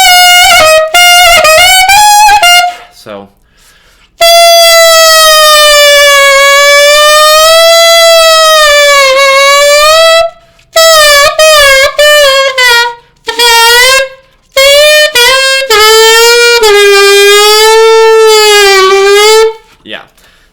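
A saxophone played with the lower lip dropped and the tongue pulled back gives long, loud, bending tones that waver and slide in pitch. Several short bursts come first, then sustained wailing notes with brief gaps between them, close to the mic.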